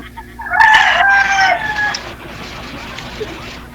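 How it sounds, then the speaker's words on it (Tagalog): A loud native rooster crows once nearby, a drawn-out harsh call lasting over a second before fading into quiet background. "Kanina pa ho yan tilaok ng tilaok, oh."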